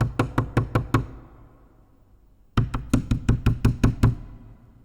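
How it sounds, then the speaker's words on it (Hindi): Knocking on a door in a Salaam-E-Ishq film scene: a quick burst of about five sharp knocks, a pause, then a longer run of about eight, close and crisp with no talk. "लेकिन अगर उसी वक्त दरवाजे पे दस्तक हो"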